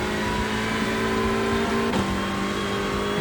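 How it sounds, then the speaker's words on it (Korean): A Hyundai race car engine in the iRacing sim game revs steadily at high pitch, the tone climbing and shifting as gears change, loud and close with no talking. "기어 감겨가지고 계속 올라가는 소리"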